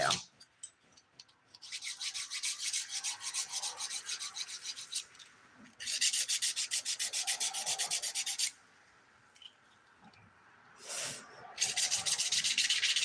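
Fingernails being filed for dip-powder nails, heard as dry rasping strokes in quick rhythmic bursts of a few seconds each, separated by short pauses, close and clear with no one talking.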